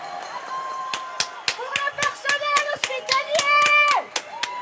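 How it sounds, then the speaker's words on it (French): Residents in Boulogne apartment buildings applauding from balconies and windows for healthcare workers, sharp irregular claps echoing between buildings, mixed with cheering voices and children calling out. "plusieurs minutes d'applaudissements nourris pour remercier les soignants de leur dévouement"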